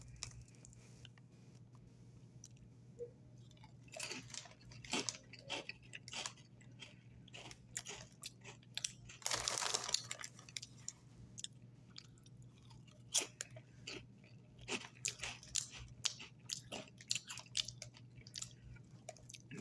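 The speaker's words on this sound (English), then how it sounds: "we're gonna taste them and see how they taste" Cheetos Crunchy Salsa Con Queso chips are eaten close to the microphone in a string of sharp crunchy bites and chewing, faint and irregular, with one louder burst of rustling partway through.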